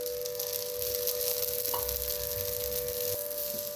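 Dosa batter fries in oil on a hot pan, a soft, steady sizzle running throughout, fairly quiet, with a faint tonal hum and an occasional small clink.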